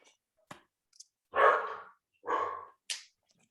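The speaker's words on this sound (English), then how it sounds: "I apologize about the barking dog in the background." A dog barks in the background during a community video meeting, giving two distinct mid-range barks with a few faint clicks and short sharp noises scattered around them, and no speech over them.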